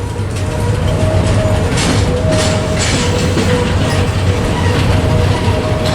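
A freight train being shoved toward Terminal Island at the Long Beach ports grinds along loudly nearby, a steady heavy rumble with faint wheel squeal and no voices.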